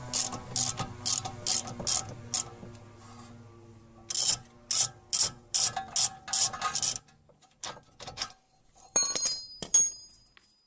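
A hand ratchet turns a rear shock absorber bolt on a car during a DIY shock and strut mount replacement, a rapid clicking pawl sounding in short bursts of close metallic ticks with brief pauses and a few light clinks near the end.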